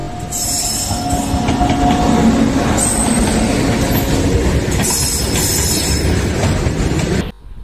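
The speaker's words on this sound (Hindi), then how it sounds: "आज आपका भाई का ट्रेन जर्नी होने वाला है जीरो छत्तीस इकतीस नटेसर फतुहा मेमो ट्रेन में" The Natesar–Fatuha MEMU passenger train rumbles loudly along the rails from inside, with steady wheel noise, metallic squeals and clatter, before the sound cuts off abruptly near the end.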